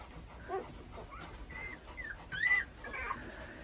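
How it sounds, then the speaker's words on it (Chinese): Ten-day-old puppies from a litter of eight whimper in a string of thin, high squeaks and yips, several short cries in quick succession, close by and fairly soft with no talking. "十天的小狗，出生十天的小狗"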